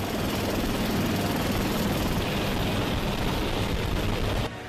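An American Sea Hawk military helicopter roars loudly and steadily, its broadband engine and rotor wash with a faint low thumping holding throughout before cutting off abruptly near the end.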